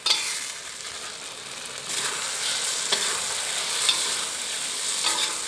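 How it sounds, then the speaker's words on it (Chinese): Black bolete mushrooms stir-fry in a wok with a continuous close sizzle and occasional spatula scrapes, with no talking. "不过水分已经慢慢被炒出去了，再炒一会儿啊，让它渗出更多的油脂"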